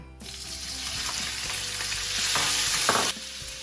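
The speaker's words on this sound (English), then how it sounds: "Yep, it's frying off nicely." Pork belly pieces frying in hot oil with ginger, a steady close sizzle and crackle that swells louder midway, with light stirring clatter throughout and a brief surge near the end.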